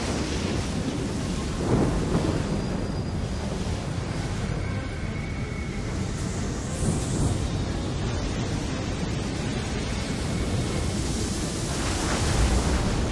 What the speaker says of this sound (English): And here we go into the storm.